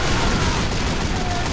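Dense, continuous gunfire in a Team Fortress 2 match, a loud rapid barrage of shots filling the whole moment.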